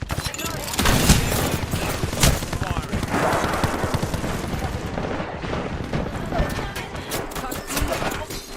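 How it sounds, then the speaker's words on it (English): Rapid enemy gunfire in the battle royale game Apex Legends, bursts of shots crackling close and loud through most of the stretch, with game effects and a voice talking over it. "Joker's shooting at me"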